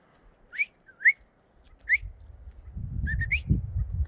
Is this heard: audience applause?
no